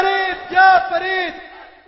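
A crowd at a Sunni Islamic religious gathering chants slogans in loud unison voices. The drawn-out shouted calls rise and fall in two or three bursts before fading.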